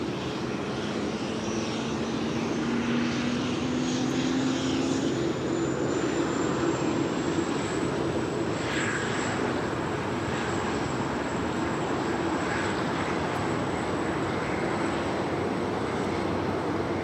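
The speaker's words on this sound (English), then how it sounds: "It's a Polar Air Cargo 747-8. Continues taxi down to Alpha." A Boeing 747-8 freighter taxiing at LAX gives a steady, continuous jet engine roar with a faint rising whine, heard from a distance without pause and with no voices.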